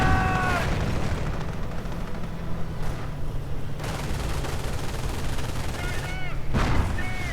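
Machine gun fire and artillery from an MG42 in a World War II strategy video game: dense continuous battle rumble with rapid gunfire bursts and booming impacts throughout, alongside brief tonal effects near the start and end.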